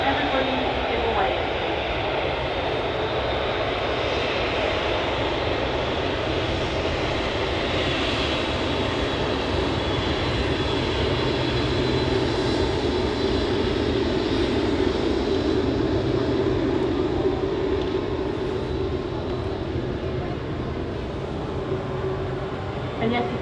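An Airbus A380 taxies at Manchester Airport with a continuous, loud jet engine roar and hum that holds steady throughout.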